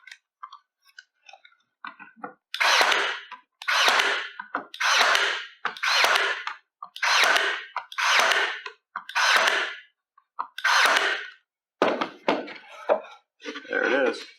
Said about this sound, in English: Take my nail gun.